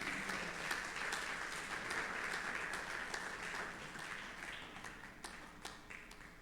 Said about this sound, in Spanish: ¿Cuántos le dan un aplauso al Señor por esto?